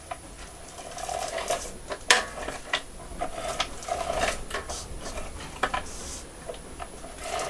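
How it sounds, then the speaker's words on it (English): ATG adhesive tape gun run along a recycled greeting card, producing soft ticking and rattling mechanical clicks against a steady hiss, close and moderately quiet. "So I want to just use my ATG gun."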